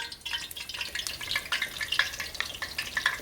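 Cajun fish pieces frying in hot oil in a Louisiana-style crispy fish fry, giving a steady close crackling sizzle with bright popping spatters throughout and no talking.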